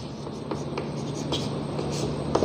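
Pen or chalk writing during a math class, a continuous soft scratching with light taps and strokes, close and steady over a low background hum.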